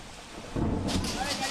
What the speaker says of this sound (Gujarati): રાજકોટમાં સતત બીજા દિવસે કમોસમી વરસાદ છે તે વરસી રહ્યો છે